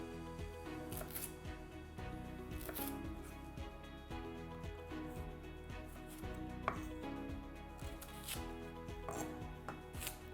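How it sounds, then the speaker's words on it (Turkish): A knife dicing carrots on a cutting board in quick, steady rhythmic chops, close and clear, with no talking. "Küp küp doğrayacağım."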